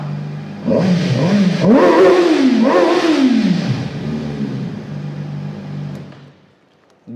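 A VOGE RR 500S inline-four sportbike revving in first gear, several sharp rising and falling throttle blips close by, then the engine settling to a smooth steady idle before it cuts off at the end.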